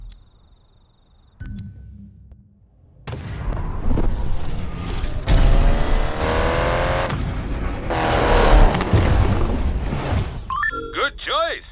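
A Honda S2000 with a VTEC engine revs hard in the racing game Need for Speed Payback on PS5. Quiet game sounds build into loud, rising engine sweeps with bursts of acceleration and a tire squeal near the end.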